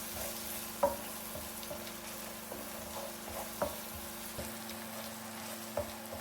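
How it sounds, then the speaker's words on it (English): Spices and sun-dried tomatoes cooking in a pan over medium heat, with a soft steady sizzle and a few sharp stir clatters against the pan, close and fairly quiet with no talk. "Cook the spices for about a minute to awaken their flavors."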